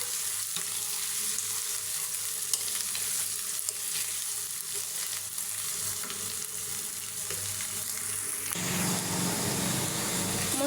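Whole cardamom, cinnamon and bay leaf fry in hot oil for a chicken curry, a steady loud sizzle running throughout that grows fuller and deeper near the end.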